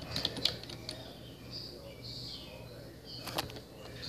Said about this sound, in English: And now we're gonna type in the info.